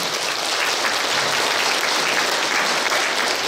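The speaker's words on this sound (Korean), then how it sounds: "우리 박수 한번 할까요?" Dense, even clapping from an audience at a training session for senior-citizen association leaders, loud and continuous across the whole moment with no voices over it.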